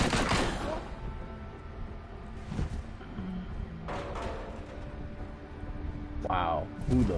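Machine gun fire in the Marvel Heroes Omega action game, dense overlapping bursts of shots mixed with game effects, running steadily through the whole stretch, with a voice cutting in near the end.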